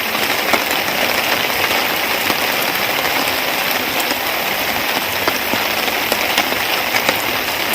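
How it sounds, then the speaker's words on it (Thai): Steady rain pours down outdoors at a fishing spot, a dense, even hiss that stays loud and unbroken throughout, with no speech. "นี่ฝนเต็มท้องฟ้าอยู่นะครับ"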